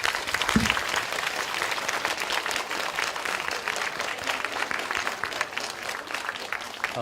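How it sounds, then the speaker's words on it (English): An audience applauds panel speakers at a media talk, with steady, dense clapping from a full room that carries on throughout. "So let's give them a round of applause."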